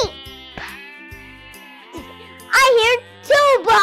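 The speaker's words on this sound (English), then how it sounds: "It's a sheep." A farm sheep bleats twice near the end in loud, wavering cries after a stretch of talking and other sounds.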